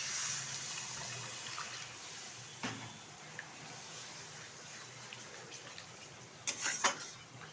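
A small splash of water poured into paneer masala in a pan, heard as a soft liquid hiss and gurgle under steady background noise, with a few brief clinks near the end.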